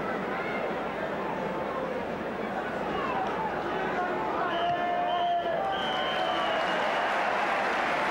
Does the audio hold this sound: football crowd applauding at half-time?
yes